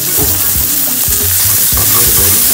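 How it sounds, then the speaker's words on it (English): Red onions frying in a pan, a steady loud sizzle with stirring scrapes and clatters throughout. "Fry red onions."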